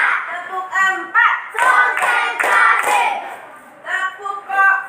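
A class claps together in an ice-breaker clap game, several quick rhythmic bursts of hand claps mixed with children's voices close by.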